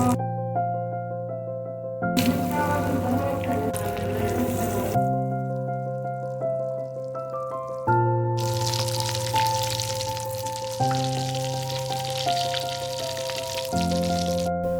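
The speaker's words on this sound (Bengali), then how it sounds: "আলুর যে শেপগুলো বানিয়ে রেখেছি সেটিকে বেসনের মধ্যে ডুবিয়ে একে একে করে তেলে ছাড়তে থাকবো।" Potato chops dipped in gram flour batter are frying in hot oil. The crackly sizzle comes and goes in bursts under steady background music.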